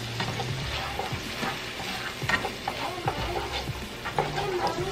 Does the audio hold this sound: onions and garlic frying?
yes